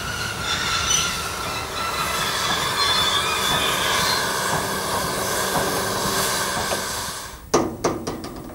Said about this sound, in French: La machine entre alors en gare avec un chuintement caractéristique produit par la vapeur qui s'échappe du souffleur dans la boîte à fumée